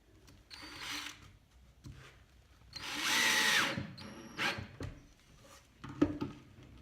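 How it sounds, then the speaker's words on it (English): A power drill drives screws into a small piece of wood, giving several short whirring bursts of varying length with brief pauses between them, close and fairly loud, with no talking. "So I'm going to screw this little bit of wood onto the back of this, like that, just with some screws."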